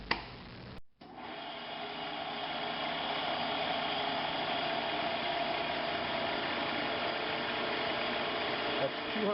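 A Pacemaker metal lathe spins at 200 RPM with an air blast nearby, a steady continuous mechanical hum and whir holding loud and even for several seconds after a brief start-up.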